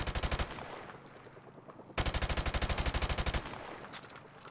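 Automatic rifle fire in Call of Duty Modern Warfare Remastered, loud close bursts of rapid evenly spaced shots, one short burst then a longer one after a pause, with no talking.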